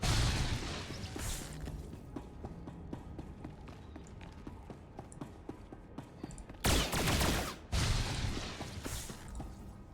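Combat in the Star Wars: The Old Republic video game as turrets are destroyed, rapid blaster fire and crackling shots over a rumbling backdrop, with a burst of louder explosions near the end.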